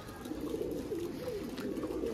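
Pigeons cooing in a rooftop pigeon loft, a soft, steady, rolling murmur close by, with low background noise and no talking.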